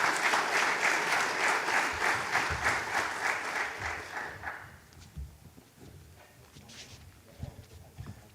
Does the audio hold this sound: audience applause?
yes